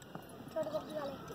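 A mare's hooves clip-clop softly at a buggy setup from Ganganagar, a few quick steps heard under nearby talking.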